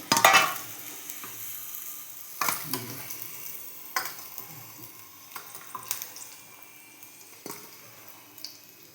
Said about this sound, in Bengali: রাতে রান্না হচ্ছে, এই তো আলু ভাজা হচ্ছে